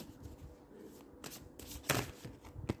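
Tarot cards being shuffled and drawn, a quiet close-up run of soft riffling flicks and a few sharper card snaps.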